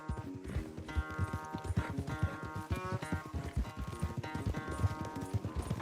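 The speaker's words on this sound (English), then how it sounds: "O cavalo do Dutch é bom, velho." A horse gallops in the video game Red Dead Redemption 2, its hooves clopping in a quick steady rhythm over bright tonal game music, close and continuous with no talk.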